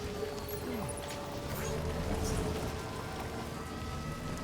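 Rain falls in the video game Death Stranding 2, a constant patter of drops hitting surfaces at steady volume, with faint tonal game sounds beneath and no voices.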